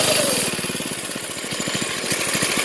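A small yard go-kart engine putters loudly in a rapid, uneven rhythm while the kart slides around on muddy ground, running close and continuous with no talking.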